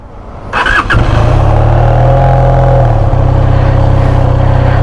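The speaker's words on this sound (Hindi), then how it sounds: "सबसे पहले आपको एग्जॉस्ट की आवाज़ सुना देता हूँ, 2 सिलेंडर की इग्निशन।" A 2023 QJ Motor SRK 400 two-cylinder motorcycle fires up after a couple of quick cranks, then settles into a loud, throbbing, uneven idle with a deep, lumpy, growling exhaust pulse.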